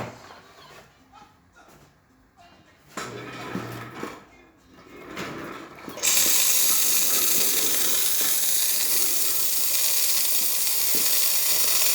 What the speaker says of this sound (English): As you can see, steam comes out through there.